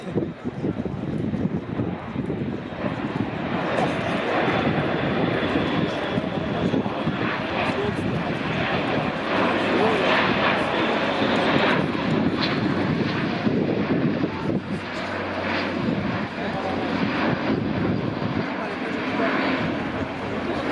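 Airbus A400M Atlas military transport aircraft flying at the RIAT 2019 air show, a continuous loud propeller and engine roar with wind buffeting the microphone, and a commentator speaking over it throughout.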